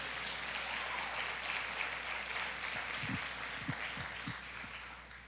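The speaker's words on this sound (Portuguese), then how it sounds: "Dê uma salva de palmas para o Senhor." Church congregation applauding in a worship service, a steady wash of clapping from many hands, moderately loud and sustained throughout with a few low thumps.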